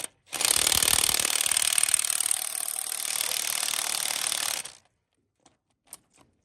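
A wrench ratchets out stubborn old spark plugs on a 1927 Chevy truck, with a rapid, continuous clicking run of about four seconds followed by a few isolated soft clicks in quiet.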